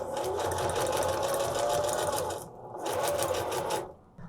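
A heavy-duty Singer or Janome HD3000 sewing machine stitches through foam at an extended stitch length in two close, loud, rhythmic runs separated by a brief pause, the second one ending abruptly.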